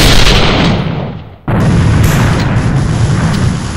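A loud, close blast dominates the clip: a broad roaring rumble fades out, a brief gap follows, then a second heavy detonation rolls on with sustained low booming, like a grenade going off in a military shooter.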